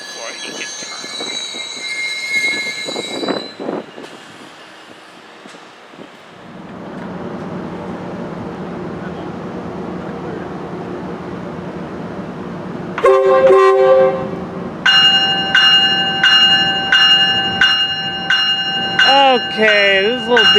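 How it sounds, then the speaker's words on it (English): A passenger train rolls by on rails with rising wheel squeal, and its horn blows loud sustained tones near the end over the rumbling cars. "this train has to wait for the holy train to go by"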